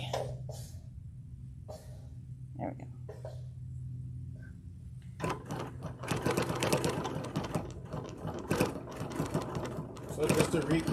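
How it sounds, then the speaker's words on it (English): A sewing machine quilting along an applique line runs in short bursts at first, then stitches continuously and loudly, with a soft voice and a cough heard between and over the machine. "I'm gonna come back, I'm gonna sew back up my line."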